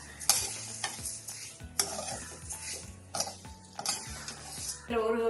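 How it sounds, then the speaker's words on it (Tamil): Thin vermicelli stirred and roasted in about 1.5 teaspoons of hot oil in a pan for semiya bagalabath: a spoon scrapes and clinks against the pan in repeated strokes over a steady sizzle, close and clear. "இப்போ இந்த சேமியாவை லேசாக புரட்டிக்கலாம்"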